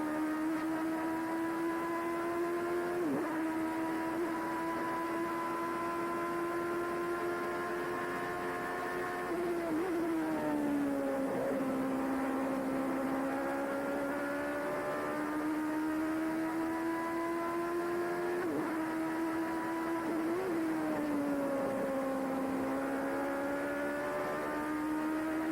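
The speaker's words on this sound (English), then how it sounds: "Listen to the sound of this V8." An onboard Formula 1 V8 engine at the 1989 British Grand Prix at Silverstone screams at high revs, its pitch climbing through each gear and dipping sharply at several shifts and lifts, loud and continuous throughout.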